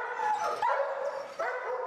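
Police dogs in kennels bark, yip and whine in overlapping bursts, a close, steady chorus of several animals filling the short stretch with no talking.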